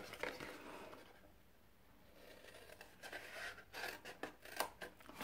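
Scissors snip through card for a soap box, quiet close-up cuts with a pause in the middle, then a quick series of short crisp snips.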